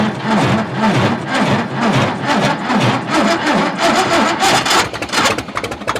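A Caterpillar TraxCavator engine cranks over on ether with the throttle turned up, a loud, close, rhythmic chugging of the starter that keeps turning over for several seconds without catching.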